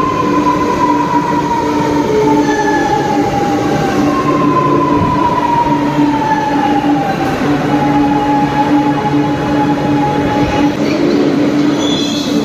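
A metro train pulls into a station in Chennai, a loud, steady rumble of wheels on rail with drawn-out metallic squeals and whining tones sliding in pitch as it approaches.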